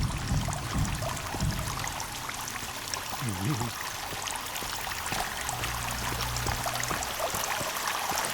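Water flows and trickles steadily inside a cave in the video game Sons of the Forest, a continuous wash of stream noise with faint low sounds beneath.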